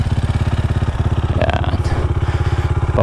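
Single-cylinder motorcycle engine with a flat-slide 28 mm carburetor idling close by as its idle screw is loosened, a fast, even chugging pulse with a brief clatter midway, loud and alone.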